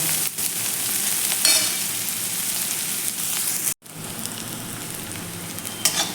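Thinly sliced onion sizzles steadily as it sautés in a pan, a close, continuous frying hiss with occasional stirring scrapes and a brief break partway through.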